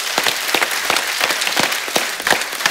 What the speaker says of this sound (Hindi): हमारे जवानों के लिए एक बार जोरदार तालियां हो जाए